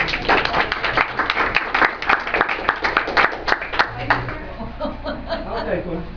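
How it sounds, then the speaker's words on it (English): Forum audience applauding at a Common Core Standards event, a burst of many hands clapping with distinct claps that gradually thins out, with a few voices and low chatter mixed in. "Let's give them a round of applause."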